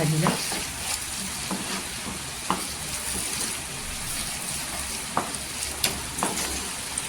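Green chillies and a bowl of coarsely chopped coriander are stir-fried for a spicy chilli bhaji, a loud continuous sizzle with spatula stirring and a few sharp clinks, up close and without speech.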